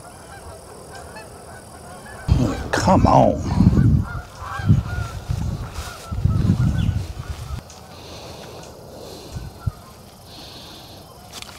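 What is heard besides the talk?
geese honking in the morning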